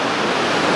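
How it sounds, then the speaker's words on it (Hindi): Fast-flowing water from the opened gates of the Gangrel dam roars as a loud, steady, close rush of broadband noise, with no speech over it. "यहाँ पे आप देख सकते हैं जो बहाव है वो इतना ज़्यादा तेज है यार"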